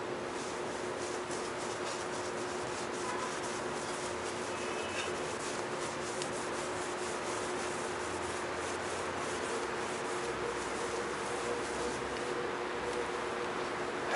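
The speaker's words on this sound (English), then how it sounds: "Now I'm going to buff it off with the clean side of the terry cloth towel that you had from before." A terry cloth towel buffs dried wax off touched-up car paint, making a steady, close, continuous rubbing swish with no pauses and no voices.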